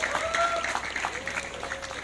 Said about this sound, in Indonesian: tepuk tangan buat saudari Nurul Latifah.